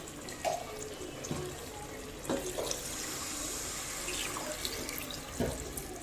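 Water pours into a pot of measured biryani rice, a continuous soft rushing flow with a few small splashes and clinks, fairly quiet and steady throughout.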